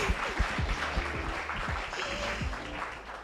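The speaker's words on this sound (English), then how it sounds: "Please, a round of applause for him." An audience at a youth civic-engagement event applauds a comedian, a dense, steady wash of many hands clapping that holds at an even level throughout.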